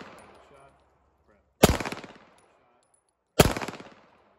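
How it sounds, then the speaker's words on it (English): Two sharp, loud gunshots from a target-shooting gun, spaced about two seconds apart, each followed by a ringing echo that decays quickly, with no talking over them. "I know you probably can't hear me while the gun's firing"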